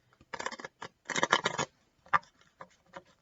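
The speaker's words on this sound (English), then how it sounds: "Just give these cards a shuffle." Papery riffling and quick crisp flutters as cards are shuffled, in two or three short bursts separated by brief pauses, close to the microphone.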